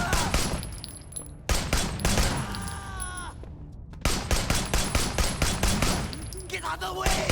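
Sustained automatic gunfire rattles loud and close in the action game Sleeping Dogs, rapid bursts broken by a short lull before the shooting resumes, with a voice briefly shouting over it.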